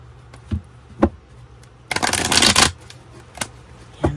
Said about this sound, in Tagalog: Yan, balasahin lang muna po natin.